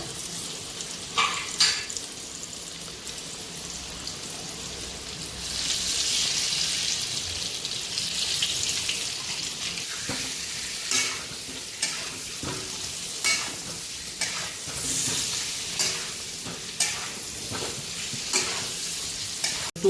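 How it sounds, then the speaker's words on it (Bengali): Potatoes frying in a pan for a rainy-night chicken curry, a steady sizzle broken by repeated scraping stirs at irregular intervals, close and fairly loud with no talking. "আর আলুটা একটু ফ্রাই করা হবে"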